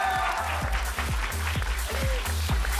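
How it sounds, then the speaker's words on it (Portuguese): Steady applause from a crowd, continuous clapping with a regular rhythmic beat running underneath. "Aplaudir."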